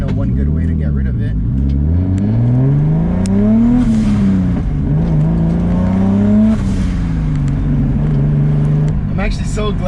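A 500whp turbocharged M50-swapped BMW E30 accelerating hard, its engine droning loud and close as it climbs through the revs, shifts, then climbs again, with a voice talking over the engine noise.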